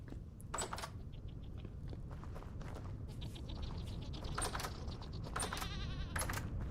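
Goats bleat repeatedly in the Vintage Story survival game, several wavering calls spaced a second or so apart over a steady rustling, low background.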